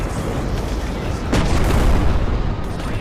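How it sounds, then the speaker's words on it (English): Mortar rounds landing in Plastic Battlegrounds, a Vietnam-era zombie attack game, with a heavy low rumble and a sharper blast near the middle of a continuous loud battle din. "Those mortars are pretty accurate."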